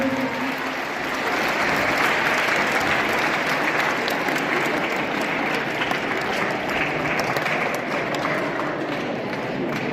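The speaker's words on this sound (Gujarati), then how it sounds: "તાળીઓથી આપણે અભિવાદન કરીશું" A crowd applauds steadily for about ten seconds, dense, even clapping from many hands filling the room.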